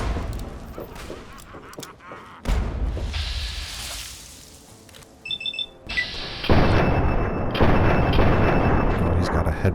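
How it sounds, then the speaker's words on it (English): A grenade goes off in Fallout 3, with deep booming bursts rising out of busy game sound among alarm-like tones and gunfire-like cracks, loud and sustained toward the end. "Oh, that's a grenade."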